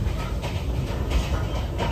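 Interior of a moving train in Vietnam: a steady rumbling roar of wheels and carriage with faint rhythmic clatter, continuous and close, no talking.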